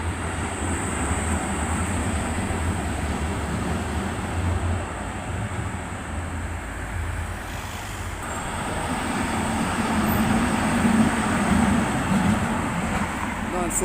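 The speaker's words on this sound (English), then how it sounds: "Another T15 tram now," A T15 tram passes through a Prague street amid general traffic, a broad rumbling wash that swells toward the end as it draws nearer, with a high tonal whine early on and some talk mixed in.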